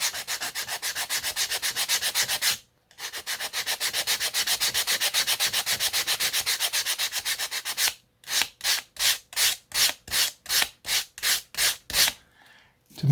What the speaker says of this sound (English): take your piece of 64th and sand it down just against your fingertip